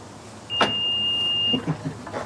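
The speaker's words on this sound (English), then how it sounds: "Would you mind zapping this car?" A car's remote central locking is triggered, giving one clean electronic beep tone lasting about a second, with a brief mechanical clunk at the start and small thumps of the locks afterward.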